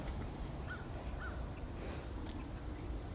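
Two short, faint crow caws come from a distance outdoors in Texas, heard over a low, steady background rumble.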